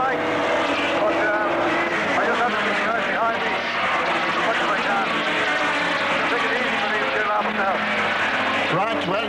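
A 1.9-litre non-turbo Peugeot production saloon race car at Mondello Park, 1987, its engine droning loud and continuous with shifting pitch, under steady talk throughout.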